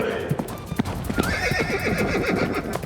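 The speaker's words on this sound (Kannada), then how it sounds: "ಈಗ ಮೋಟು ಮತ್ತೆ ತುಫಾನ್ ಕುದುರೆ ನರಿ ಬಿರುಗಾಳಿ ಅಂತ ಹೋಗ್ತಾ ಇದ್ದಾರೆ." A horse whinnies loudly while hooves clip-clop in a quick galloping rhythm, close and energetic throughout.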